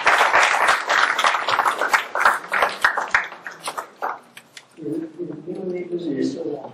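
Audience applause at a seminar on Hinduism as a pluralistic tradition, a dense burst of clapping that thins into scattered claps, then gives way to a speaker's voice.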